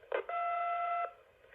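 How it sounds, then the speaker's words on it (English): A Panasonic KX-TC1701B vintage analog cordless phone gives a held DTMF dialing tone, a clean steady dual-pitch beep lasting under a second after a short click, close and clear with no voices. "have it make the dialing tone for as long as I'm holding it"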